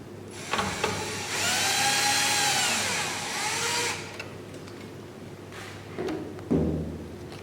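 A power screwdriver drives screws into the main and control boards of an SPF5000ES inverter, one sustained high whine of about three seconds followed by quieter clicks and handling knocks.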